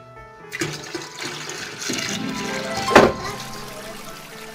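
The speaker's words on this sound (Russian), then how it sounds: "Ну, наливаем еще воды." Warm water pours into a toy mermaid aquarium, a short splashing gush that swells, peaks in a brief burst, then trails off into trickling.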